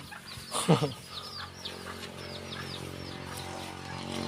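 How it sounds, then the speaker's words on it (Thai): Chickens clucking at a farm where cattle and poultry are kept, with short repeated clucks at moderate distance under someone talking. "ไก่เกี่ยก็มีพี่น้องนะครับ"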